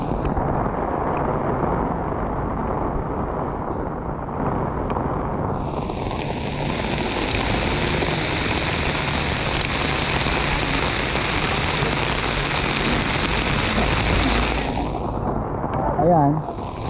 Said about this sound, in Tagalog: Biglang lumakas po ang ulan dito.